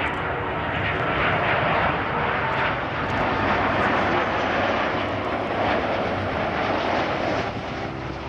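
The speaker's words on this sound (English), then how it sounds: "That's another A330." An Airbus A330 airliner passes near an airport, its jet engines producing a loud, broad, continuous roar that holds steady for several seconds before easing slightly, with some wind noise on the microphone.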